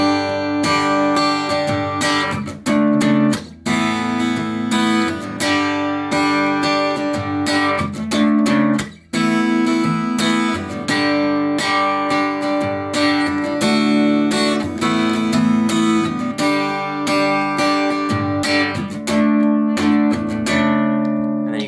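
An acoustic guitar strums through the chorus chord progression of a song for about twenty seconds, steady and full, with a couple of brief pauses between phrases and no voices.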